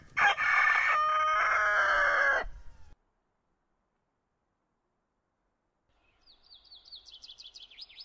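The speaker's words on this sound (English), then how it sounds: "at once a rooster crowed" A rooster crows once as a sound effect in a Bible reading: a loud, close call with layered harmonics lasting about two and a half seconds, then silence, then faint high chirping birds in the background.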